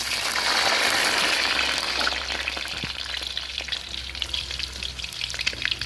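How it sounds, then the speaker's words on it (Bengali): Potatoes frying lightly in oil in a pan for a home-cooked chicken biryani, a steady close sizzle with occasional soft stirring clinks and no talk. "বিরিয়ানিতে আলু দেবো আলুগুলো একটু হালকা ভেজে নিচ্ছি"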